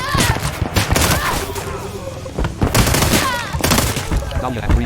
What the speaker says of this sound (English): Main 9mm Uzi. 0 bullets remaining.